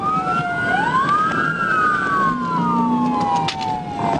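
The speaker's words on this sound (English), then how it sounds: "Yeah, I hear sirens." Loud police sirens wail, rising and falling, several overlapping, with traffic noise underneath and a low horn-like tone briefly joining, during a high-speed chase.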